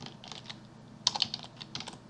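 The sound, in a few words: typing Java code on a computer keyboard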